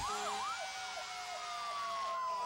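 A Norfolk Bristol Ambulance Service ambulance siren wails in a fast rising and falling yelp, fairly loud and steady throughout with no voices over it.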